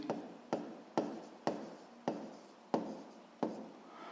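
Chalk or marker strokes writing a physics formula, seven sharp taps and scratches each fading quickly, spaced about half a second apart, close and fairly quiet.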